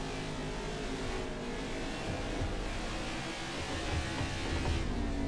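A race car engine in NASCAR 21 on the Bristol dirt track roars steadily at high revs with slight throttle swells, close and continuous, with other cars droning around it.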